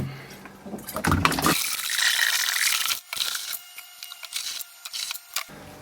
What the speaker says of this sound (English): Time to add the water.